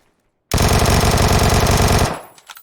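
A jackhammer pounds through a floor to reach a plumbing leak under the hot water line, a loud, rapid, continuous hammering burst lasting about a second and a half that then cuts off.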